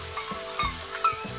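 Shrimp being stirred in a seasoning sauce in a hot pan, with steady sizzling and a few scraping clicks of the spatula, close and fairly quiet.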